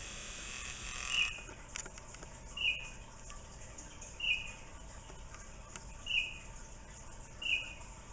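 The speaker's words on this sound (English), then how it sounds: "He just will not quit coming to my windows and chirping at me." A Baltimore Oriole chirps at a window, giving five short, sharp calls spaced at an even interval of roughly a second and a half against quiet background hiss.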